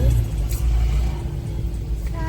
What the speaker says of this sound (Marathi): and again we are in traffic